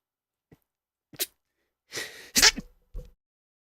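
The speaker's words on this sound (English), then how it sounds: "Sorry, I had to sneeze." A single person sneezes once, a quick sharp burst with small breaths and sniffs before and after, close and otherwise quiet.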